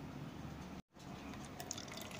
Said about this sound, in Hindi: देखिए मैं स्प्रे बॉटल में डाल रही हूँ